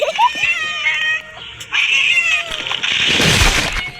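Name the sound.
cat sound in a video game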